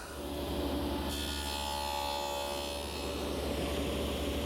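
Table saw fitted with a stacked dado head and a sacrificial wood fence cutting kitchen cabinet wood, a constant loud whining hum with a continuous buzzing cut throughout.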